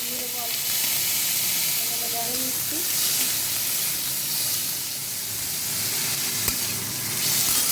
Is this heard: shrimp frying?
yes